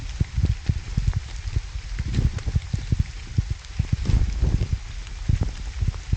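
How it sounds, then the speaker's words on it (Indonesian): Heavy rain patters steadily around a hiker on a steep, dark mountain trail descent, with dense close drops and irregular splashes and thuds underneath, no talking. "hujannya jadi sekarang semakin deras dan kondisinya masih lumayan gelap"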